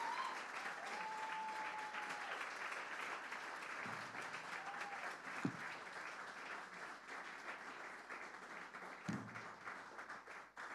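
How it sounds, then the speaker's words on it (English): Audience applause at the Raindance Film Festival awards ceremony, a sustained crowd clapping that fills the room for about ten seconds, with a few louder thumps and faint tonal whistles or cheers riding over it. "I want to hear lots of applause for Byron Rose."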